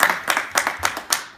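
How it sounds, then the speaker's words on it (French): Wedding guests clapping for the couple after the ring exchange, a light scattered patter of several hands in short bursts lasting about a second and a half, fairly close. "On va les applaudir un petit peu"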